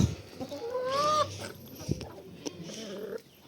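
A white hen clucking in a farmyard, a short rising and falling squawk followed by a few quieter clucks and rustling nearby.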